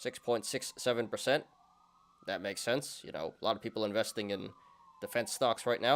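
Police sirens pass outside, a faint wailing tone that rises and falls steadily under someone talking close-up indoors, audible throughout and clearest in the pauses.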